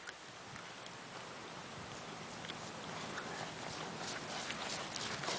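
Horse trotting in a riding lesson, hooves beating a steady clip-clop rhythm over a constant noisy background, fairly faint and distant, with no talk.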